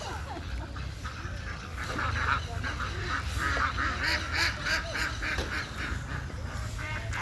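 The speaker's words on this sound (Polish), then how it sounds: "Na razie kaczki, gęsi" Geese and ducks honk and quack in a noisy outdoor cluster, calls overlapping at moderate distance with steady background rumble.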